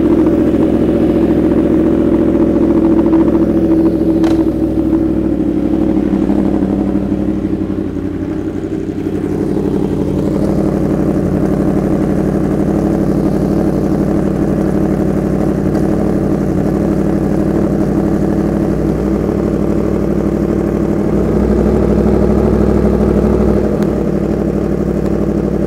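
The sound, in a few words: Yamaha R1M motorcycle engine running in first gear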